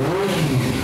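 A four-cylinder Honda CB400 motorcycle engine revs close by, a smooth rising and falling tone that swells briefly, heard alone without talk.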